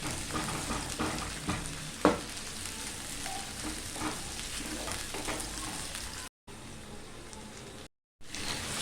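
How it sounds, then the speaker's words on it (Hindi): Chopped onions fry in oil in a pot, a steady close sizzle with occasional stirring clatter and a brief sharp knock, continuing without pause. "उसमें हम ऑयल शामिल करेंगे, पतीला, कढ़ाई या देसी जो भी आप लें, और इसमें शामिल करेंगे प्याज।"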